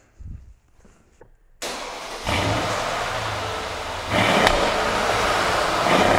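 A 2012 Mercedes-Benz ML63 AMG starting its engine after a few quiet clicks, then settling into a loud, close, rumbling idle that swells with a rev partway through, no speech.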